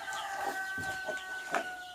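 A mother hen with chicks on a family farm gives a few soft, short clucks at close range, scattered over quiet background.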